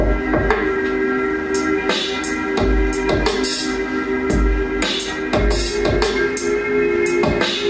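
A steady, looping electronic drum beat with punchy low kicks, crisp snare and hi-hat hits over sustained synth tones, repeating in an even rhythm.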